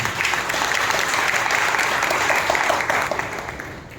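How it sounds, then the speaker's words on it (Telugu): Loud, sustained applause from a church congregation at a Sunday worship service in Nellore, with dense, steady clapping filling the whole stretch and easing slightly at the end. "బిగ్గరగా చప్పట్లు కొట్టి ప్రభువుని మహిమపరుస్తాం."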